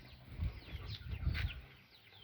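Soft clucking of chickens in the background, a few low murmuring calls amid faint outdoor ambience, fairly quiet and at some distance.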